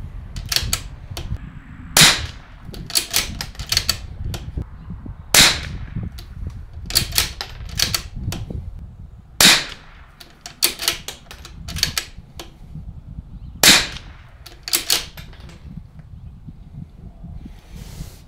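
Rifle fired from a barricade rest in a five-shot group; a rifle carrying a Blackhound Evolve 5-25x56 scope. Several sharp, loud cracks come at uneven intervals over a low, rumbling outdoor background.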